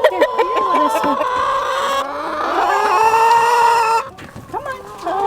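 Chickens cluck loudly and continuously at close range, with drawn-out calls, near a fence in a Minnesota garden where a rooster is getting out underneath.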